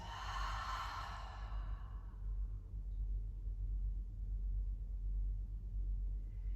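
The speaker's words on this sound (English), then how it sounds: "One more big inhale in, exhale, expand." A deep breathy exhale during a yoga breathing exercise opens the clip close and full, fading after about a second into a low steady room rumble.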